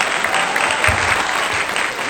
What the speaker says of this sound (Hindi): एक बार ताली अपने लिए पुनः बजाइए जोरदार, पीछे तक